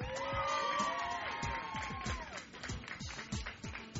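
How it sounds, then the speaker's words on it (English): A studio crowd claps and cheers, with whoops over steady applause that gradually thins out toward the end. "Round of applause."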